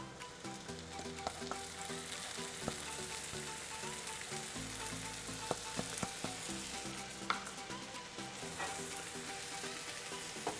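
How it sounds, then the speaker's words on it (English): Minced garlic sizzling in a pan while Salisbury steak cooks, a dense steady crackle and spit with occasional sharper pops and stirring scrapes, close up and unbroken, no talking. "I'm going to add some minced garlic in here"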